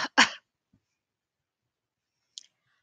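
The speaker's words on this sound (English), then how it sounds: "Mom sniffed and sneezed." A person sneezes twice in quick succession, loud and close, followed by near silence and a faint click.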